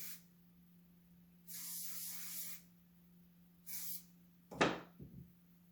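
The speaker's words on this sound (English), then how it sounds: "now what we're going to do is use that same curl spray" Curl spray misted onto hair from a pump bottle, two separate sharp hissing bursts about a second long each, followed by a clack and a brief rustle, all close and fairly loud.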